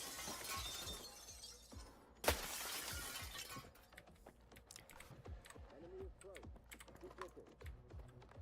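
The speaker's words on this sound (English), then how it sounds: "Kind of want to shoot those windows out" Windows shatter under gunfire in the video game S.T.A.L.K.E.R. 2: a sharp, loud burst of breaking glass stands out, followed by scattered clicks and clatter while voices talk.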